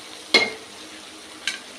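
Sliced onions frying in a pan for a stuffed eggplant and egg masala curry, giving a faint steady sizzle broken by two brief metallic clinks of a spoon.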